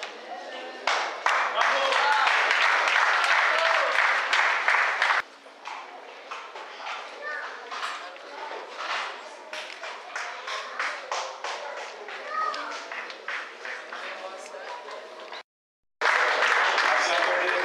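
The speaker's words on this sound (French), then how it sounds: "Acclamons pour les réalisations de nos étudiantes, pour tous ceux qui ont besoin d'apprendre" An audience at an open-day event in Brussels claps for students' achievements, crisp scattered hand claps in a steady patter, fairly close, with a voice speaking over part of it and a brief cut near the end.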